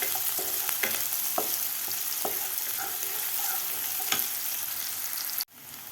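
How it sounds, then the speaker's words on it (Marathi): Chopped onions sizzle steadily in a hot pan while being stirred for an egg masala, with repeated scraping taps of the spoon against the pan over continuous frying. "कांदा आपल्याला व्यवस्थित परतून घ्यायचा आहे दोन मिनटं व्यवस्थित परतायचा आहे कांदा"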